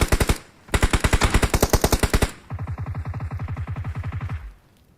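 Rapid automatic gunfire from PUBG Mobile in Ultimate Royale mode, with two fast, loud bursts followed by a steadier, lower-pitched burst of repeated shots that stops abruptly.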